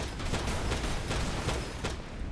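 Rapid gunfire from the video game Daemon X Machina crackles in a dense, continuous burst with repeated sharp hits and a low mechanical rumble beneath, loud and close, with no talking.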